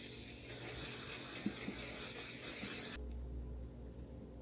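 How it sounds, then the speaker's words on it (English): A makeup setting spray mists onto a face, a continuous airy hiss that holds steady for about three seconds and then cuts off abruptly, leaving a quiet low hum. "I'm going to take my one size setting spray, shake it up, and then just set my face."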